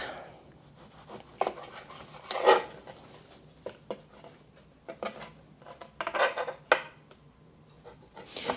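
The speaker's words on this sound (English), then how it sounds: "I'm just gonna cut them into smaller sections so that it's easier to slice." A knife cuts beef into smaller sections on a board, with scattered soft cutting and scraping strokes plus a few louder clacks against the board, close up in a quiet kitchen.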